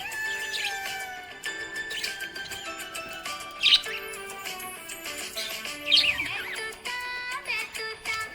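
A happy budgie chirps nearby in quick, varied tweets and warbling trills, bright and fairly close, with a few louder sharp calls standing out.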